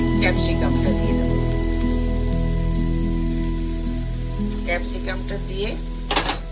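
Capsicum fries in a pan with carrot for a chicken sandwich, a steady close sizzle with a low hum beneath it, broken by a few utensil scrapes and clinks near the end as it is stirred.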